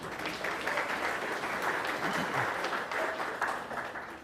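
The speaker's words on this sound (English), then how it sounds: "another round of applause for them, please" Soft, steady round of applause at a Blue Flag and Green Coast awards ceremony, a continuous patter of many hands heard at a distance and fairly quiet throughout.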